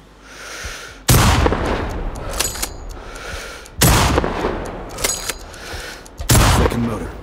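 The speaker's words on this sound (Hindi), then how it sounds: "लो भाई यहाँ से शॉट लेते हैं।" Three heavy sniper rifle shots in the video game Sniper Ghost Warrior Contracts 2, loud booming reports spaced a few seconds apart, each trailing off in a long rumbling echo.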